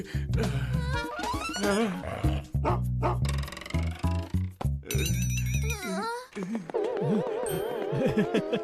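A dog in an animated children's movie barks and growls in loud, harsh bursts, mixed with dramatic music and other cartoon sounds throughout.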